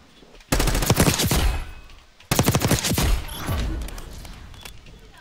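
Two loud bursts of rapid automatic gunfire in the video game Call of Duty: Black Ops 6 beta, each a dense rattling volley, the second trailing off into a fading rumble.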